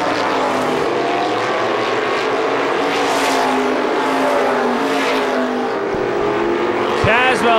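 Supermodified race car engines roar continuously at close range, with a loud whining pass near the end, while a commentator's voice runs over the top.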